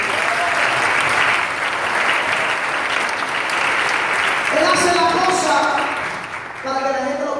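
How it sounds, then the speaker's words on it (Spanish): Church congregation applauding during a Spanish-language service with a guest preacher, a loud sustained wash of clapping that fades near the end as voices and tonal sounds rise underneath. "Da un aplauso a ellos."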